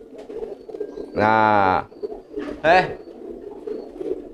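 A crested pigeon gives two cooing calls near the microphone, a long sustained harmonic coo followed by a shorter one, with someone talking softly and low background noise between them.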